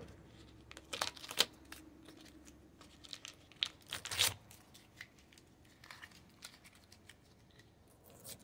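Tape is torn off a roll while working on a 9-gallon water tank installation in a cargo trailer RV conversion: a few sharp close ripping bursts with light crinkles and handling noises between them.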